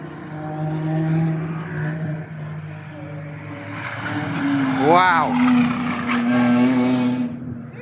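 A track car roars past up close at Cadwell Park during a track day, engine revving hard with a rising and falling pitch, tyres on the circuit, while a person exclaims briefly under the noise.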